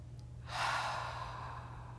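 Someone takes a single slow, deep exhale while holding a yoga forward fold. The breath is close and soft, and it swells and then tapers off over about a second and a half against a quiet background.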